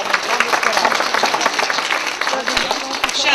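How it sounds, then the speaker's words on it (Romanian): Audience applause at a National Geography Olympiad awards ceremony in Romania, greeting prize winners from the Lehliu Centre of Excellence: dense, steady crackle of many hands clapping throughout, fairly loud and continuous. "Aplauze pentru Lehliu."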